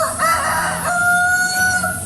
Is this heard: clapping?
no